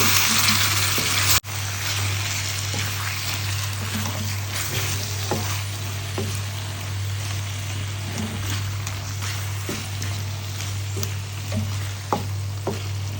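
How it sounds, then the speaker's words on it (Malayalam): Chicken frying in a pan while being stirred, a loud, steady close-up sizzle broken by scattered scraping clicks of a utensil, with a low constant hum beneath and no talk. "ഓക്കെ നമ്മുടെ ചിക്കൻ എന്തായി നോക്കാം നമുക്ക് ഞാനൊന്ന് വഴറ്റി കൊടുക്കുന്നുണ്ട്"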